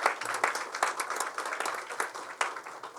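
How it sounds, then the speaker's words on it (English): Audience applause for a state's First Lady at a Preakness Festival event, steady crowd clapping with irregular sharp peaks across the whole stretch, fairly close and alone without speech. "if we could please give a round of applause to our state's amazing First Lady"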